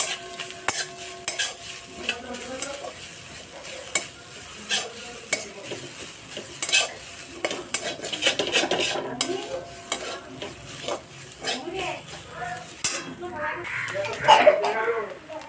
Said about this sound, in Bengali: আমি এবার নারকেল কোড়াটা দিয়ে নারকেল কোড়াটা ভেজে নেব